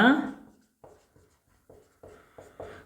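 A pen writes on paper while a maths problem is worked out, producing a few short, separate scratchy strokes with pauses between them.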